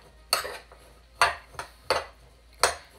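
Coconut is mixed into naan bread dough in a bowl, with about five sharp clinking knocks of a utensil against the bowl at irregular intervals, close and clear with no talk.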